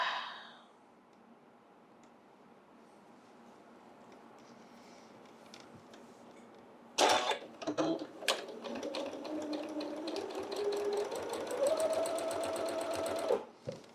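Sewing machine stitching rows of a quilt block with white fabric, starting after a quiet pause and then running in steady, close bursts with brief stops between seams.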